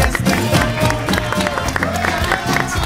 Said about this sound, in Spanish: hay que darle un fuerte aplauso a Jessica Duarte